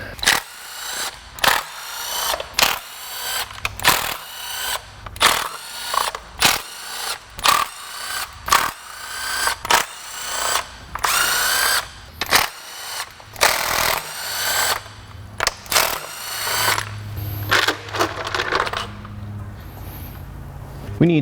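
A power tool whirs in repeated short bursts while removing the valve cover from a Mini Cooper N14 engine during a bent-valve repair, loud and close with brief pauses between pulls.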